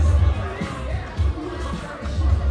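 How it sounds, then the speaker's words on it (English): A packed outdoor crowd at a festival boxing night murmurs and chatters steadily, with a few swells of louder voices and low thumps throughout, no single voice standing out. "We have a very packed crowd tonight."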